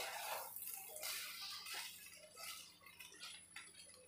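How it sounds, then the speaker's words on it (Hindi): Soya pulao is mixed in a pot with a spoon, giving soft, close clinks and scrapes of metal against the pot in an uneven rhythm, fairly quiet, with no speech. "अब अच्छे से मिक्स कर देंगे।"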